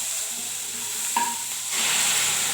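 Chopped tomatoes sauté in a pan for chutney, a steady soft sizzle with a brief clink of stirring midway and the frying growing a little louder toward the end.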